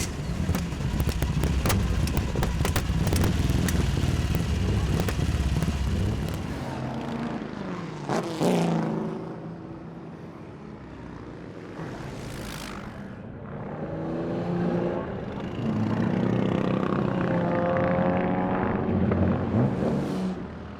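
A Parker GN car, a four-wheeled take on the Morgan three-wheeler, roars loudly close by, then its engine note drops and passes with rising and falling whooshes as it drives away and returns.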